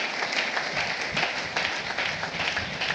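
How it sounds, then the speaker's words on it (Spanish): A church congregation applauding the Lord during an evening service, dense sustained clapping from many hands filling the room, steady and fairly loud throughout. "Apláudale al Señor en esta maravillosa noche."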